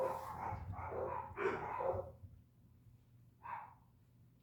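Dogs barking indoors in the background, a quick flurry of muffled barks followed by one more lone bark after a pause, fairly faint and distant, no talk.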